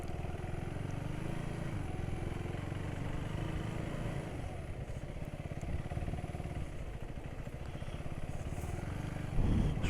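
A 2024 Husqvarna Svartpilen 401 motorcycle rides off-road over bumps, its engine droning steadily and close with a rough, clattering edge throughout, then a louder burst at the very end.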